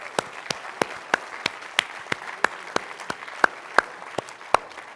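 An executive summit audience applauding, sustained clapping from a large crowd with sharp individual claps standing out, continuous for several seconds.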